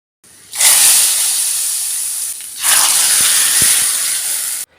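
Hot tempering of mustard seeds and garlic is poured into Udupi-style Malabar spinach and horse gram sambar, giving two loud, sustained bursts of close steam hiss with a brief dip between them, ending abruptly.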